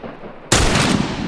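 Loud gunshot blast in the video game The Last of Us, a sudden sharp onset followed by a sustained roar of fire, heard alone with no talking.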